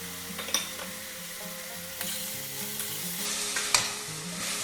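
Yellow and red cherry tomatoes fry in a hot pan with a steady sizzle, broken by a few sharp stirring clicks of a utensil against the pan.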